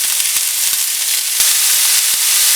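Poblano peppers, jalapenos and onion frying in a hot cast iron skillet, giving a steady close sizzling hiss with a few soft clicks and taps of stirring throughout.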